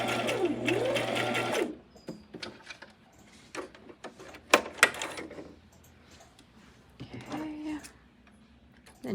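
A sewing machine back stitching the end of a fabric scrunchie headband runs in a short close buzzing burst, then stops, followed by quiet handling clicks and taps.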